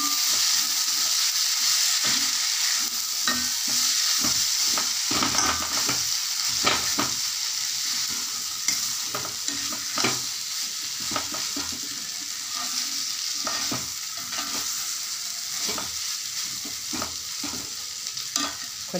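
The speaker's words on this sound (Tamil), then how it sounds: "இப்போ நாம் பொடிச்சு வச்சுருக்க இட்லி இதோட சேர்த்திக்கலாம். சேர்த்தி விட்டு நல்லா கலக்கிக்கலாம்." Crumbled idli being stirred into fried onion paste in a pan, with steady scraping and stirring strokes over a continuous sizzle, close and fairly loud throughout, no voices.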